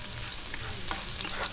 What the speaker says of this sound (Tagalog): Lagyan po natin ang bawang, halu-haluin lang po natin hanggang mag-light brown.